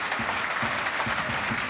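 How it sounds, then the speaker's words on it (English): Kilmarnock fans at a Celtic football match applaud a player leaving the pitch, a steady, dense wash of crowd clapping heard from a distance across the stadium. "Kilmarnock fans applauding one of the players who's just come off, who headed down the tunnel."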